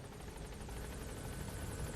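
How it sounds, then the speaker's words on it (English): Helicopter landing in the video game Metal Gear Solid V: a steady, loud rotor whir and engine roar fills the whole stretch without a break, up close and with no talking over it. "Please land helicopter, helicopter."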